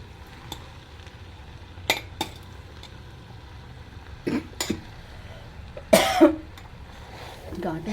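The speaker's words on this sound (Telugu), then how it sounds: "ఘాట్ వస్తుంది కదా, అందుకే కొంచెం దగ్గు వస్తుందండి" A few short coughs and throat clearing from a cook breathing pungent fumes while green chillies and spinach cook in a curry, separated by quiet gaps with faint clinks of utensils.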